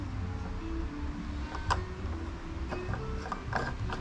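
A flush gas cap on a Harley Davidson motorcycle is pushed down, turned and locked in place, giving a few quiet, close mechanical clicks and ratcheting ticks against a low steady hum.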